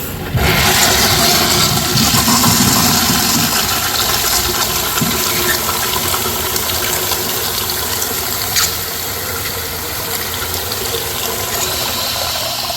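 An Eljer Dover urinal flushing with its ball rinse and front rim jets, a loud continuous rush of water with mechanical ratcheting undertones that holds steady throughout, close up and with no talking.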